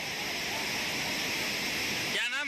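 Waterfall at Madhar Kund in a forest area, where people are bathing, gives a loud, steady broadband rush filling the whole clip before a brief change near the end.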